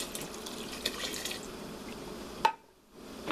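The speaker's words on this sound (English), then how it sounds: "Now I'm going to add 2 cups of water." Two cups of water pour into a cooking pot in a short, gurgling, splashing stream that stops abruptly, close and fairly quiet.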